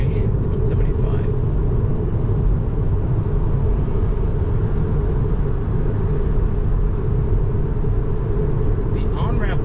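Tesla on a highway under FSD autopilot near Albuquerque, New Mexico, speeding up toward 75 mph: a loud, steady interior road rumble and tire roar that continues unbroken throughout.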